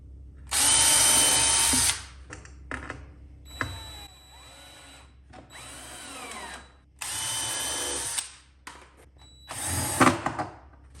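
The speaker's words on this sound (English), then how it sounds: "So I do like to pre-drill" A power drill pre-drills wood while a chicken tractor is built, whirring in several loud bursts of a second or two each, separated by quiet pauses and small clicks.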